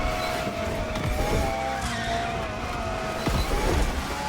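A car drifting in the racing game The Crew Motorfest, with a steady engine drone and sustained tire skid and squeal through continuous sliding, loud and close, with no talking.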